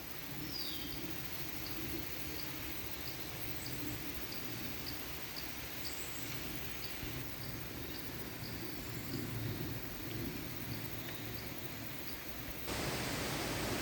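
Water pours steadily from an open check dam on a cardamom estate during the rainy season, a constant even rushing roar with faint bird chirps scattered above it.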